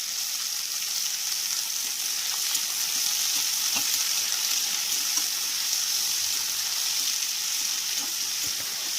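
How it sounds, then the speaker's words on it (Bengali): Bitter gourd pieces fry in hot tempering oil in a kadai, giving a steady, even sizzling hiss with occasional soft scrapes and clicks of stirring, close and continuous with no talk. "ফোড়ন দিয়ে করলাগুলো ছেড়ে দেবো, ছেড়ে দিয়ে কিছুক্ষণ নাড়াচাড়া করবো।"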